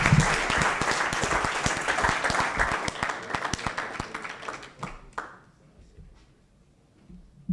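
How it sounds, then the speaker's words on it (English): A modest audience at a student sports-management competition claps for about five seconds, individual claps distinct and fairly close, then the applause thins out and fades to near silence. "All right, round of applause."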